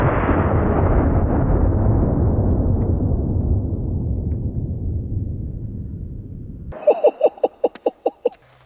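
One loud boom from a Smith & Wesson Model 629 .44 Magnum revolver with a 6.5-inch barrel, firing Underwood 300-grain jacketed hollow points, rolls away in a long fading rumble, then a few sharp clicks and knocks follow.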